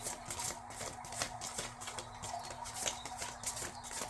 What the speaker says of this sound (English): This deck is so challenging to shuffle.